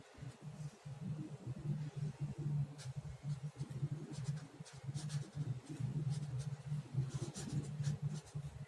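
A pen scratches steadily across paper while factors of 12 are written out in a maths lesson, with continuous close strokes and short pauses between numbers.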